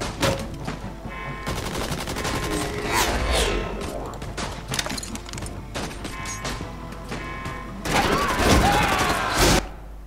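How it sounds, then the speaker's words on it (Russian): Gunfire from a statue turret in the video game Tales from the Borderlands, heard as rapid, repeated shots and thuds throughout, with a heavier burst near the end and game dialogue mixed in. "Саша, Саша, стреляй из статуи по ногам."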